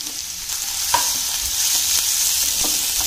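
Chopped onion and tomato sauté in a pan, a close, loud, even sizzle with occasional light spatula knocks as the mixture is stirred.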